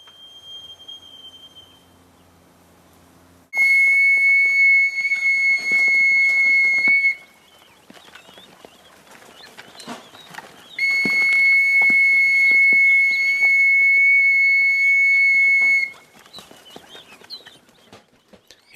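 A gamekeeper's whistle calls pheasants to feed, sounding as two long, steady, piercing blasts of several seconds each outdoors, separated by a quiet gap with faint background rustle.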